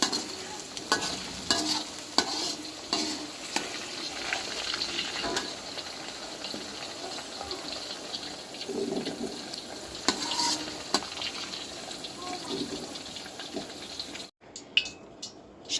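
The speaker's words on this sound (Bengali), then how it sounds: "হাফ কাপ মতো আলুগুলো তেলের মধ্যে ভেজে নিব প্রায় দুই মিনিট" Potato pieces frying in hot oil crackle steadily with frequent stirring scrapes and utensil knocks, close and continuous, before cutting to brief silence near the end.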